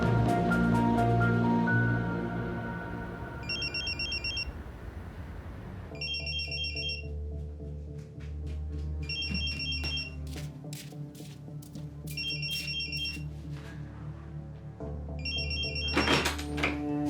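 Telephone ringing in a domestic interior, a repeated electronic trill in spaced bursts that keeps going across several rings, with soft thumps and shuffling between them.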